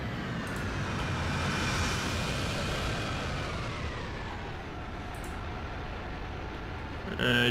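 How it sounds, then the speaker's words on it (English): Jet aircraft engine roaring in the War Thunder video game, a steady loud whoosh with a slowly shifting whine across the whole stretch, ending in a brief louder burst. "Enemy jet, it seems."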